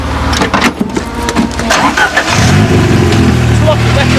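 Colin McRae's crashed 1990 Ford Sierra rally car, jacked up during repairs, cranks and then fires into a loud, rough idle, with people talking over the cranking before the engine catches.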